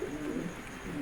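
Pigeons coo in a low, soft rolling murmur, close and steady for a brief moment with no talking.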